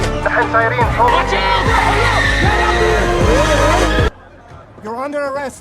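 A stolen F1 race car screeches through a film police chase, with repeated sharp tire squeals and skids over a loud engine roar. Overlapping voices and noise join in before a sudden cut to quieter sound and more squealing.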